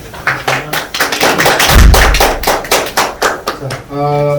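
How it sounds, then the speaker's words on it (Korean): Applause from an academic conference audience in Korea welcoming a university professor to the podium, a rapid run of close, loud claps with a steady rhythm, ending as a voice begins speaking. "박수 주시죠"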